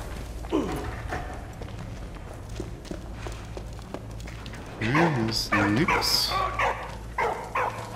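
A dog barks at a bucket outdoors in the video game Valiant Hearts: The Great War, with a few sharp barks and yips over footsteps and game ambience, some of them close and loud, while someone talks in the background.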